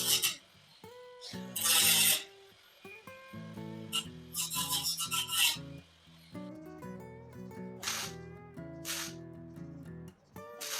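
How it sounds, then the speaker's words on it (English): Rust is scoured out of a crack in a rusty truck bed before welding, with bursts of harsh abrasive rasping and grinding alternating with quieter stretches and a tonal mechanical whine, close and fairly loud. "Now I'm cleaning out the crack so I have a nice rust-free surface to weld to."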